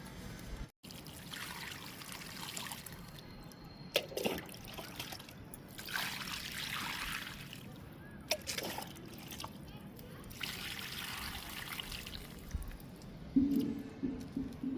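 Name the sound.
watering vinca plants in the garden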